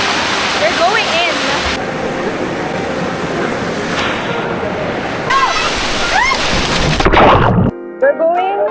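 Waterfall on Siquijor island roaring loudly as a steady broadband rush of falling water, with people talking and shouting over it and a brief squeal near the end.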